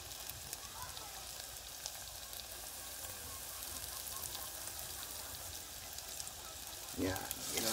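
Garlic and ginger fry in a pan for ginataang palaka, a steady close sizzle and crackle running throughout, with a brief clatter of stirring near the end.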